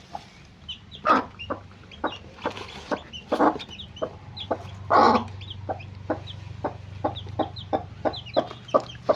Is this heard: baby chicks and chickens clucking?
yes